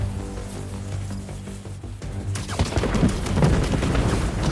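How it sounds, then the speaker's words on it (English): Fireworks burst in Marvel's Spider-Man 2, a dense barrage of loud crackling pops and booms that erupts midway and keeps going, layered over game music and ambience. "Wait, those fireworks are lit?"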